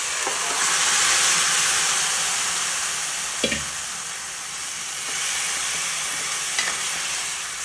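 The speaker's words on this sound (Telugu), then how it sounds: "ఈ చికెన్ని వేయాలి." Chicken goes into a pan of sizzling green chilli curry with curry leaves and is stirred. A steady loud sizzle and hiss runs throughout, broken by a few brief scraping stirs. No one speaks.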